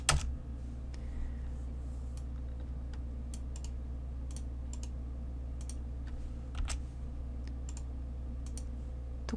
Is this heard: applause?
no